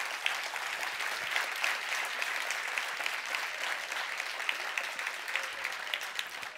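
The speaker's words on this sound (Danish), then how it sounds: "så synes jeg, at vi skal klappe" Steady, even applause from an assembly audience at a library association's general meeting continues unbroken throughout, with no talking over it.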